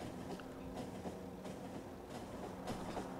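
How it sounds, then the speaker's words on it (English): A train in the video game Factorio rolls along with steady rhythmic clicking and a low rumbling hum, faint and even throughout with no talk. "Once I stop this train, I'll take a look at it."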